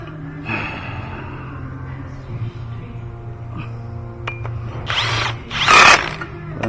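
A power tool whirs in short bursts while tightening bolts on the front brakes of a 2018 Ford Transit, faint at first, then two loud, close runs near the end over a low background hum.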